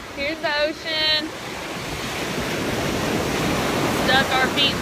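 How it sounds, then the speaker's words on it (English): Ocean surf at a sandy beach in Acadia National Park on the Maine coast, a steady broadband wash of waves with wind, loud and continuous, and faint high bird-like chirps at the start and end. "Here's the ocean."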